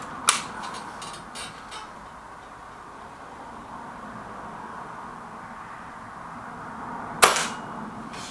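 Two air rifles, a Kral NP500 and a Gamo Venari, fire one shot each: a sharp crack near the start and another about seven seconds later, separated by quiet room hum.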